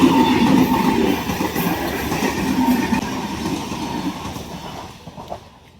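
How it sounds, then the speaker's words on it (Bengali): A train rumbles past close by at a level crossing with rhythmic clattering wheels, the heavy noise gradually easing and thinning out as it moves away. "দেখো একটুখানি দাঁড়ানোর পরেই ট্রেন চলে এসছে"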